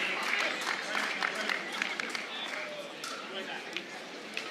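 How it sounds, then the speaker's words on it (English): Crowd noise at a professional Major League Pickleball match in New York City, a broad steady roar of cheering and applause with scattered claps and shouts, loud and continuous throughout, with commentary faintly underneath. "The crowd's going to turn it up a few notches as well."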